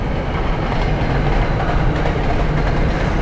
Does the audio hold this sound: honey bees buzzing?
no